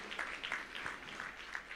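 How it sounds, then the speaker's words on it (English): An audience at an insurance brokers' association conference in Mbarara, Uganda, claps for a recognised guest, a faint, even patter of many hands heard from a distance with no voices over it. "Let's clap for Judy."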